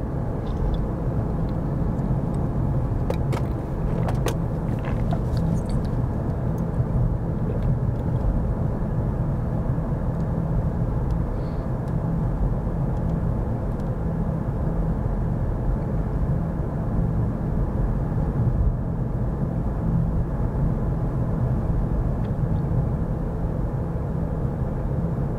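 Steady interior road noise of a car driving on an empty road, a constant low rumble with tyre hum throughout and no talking.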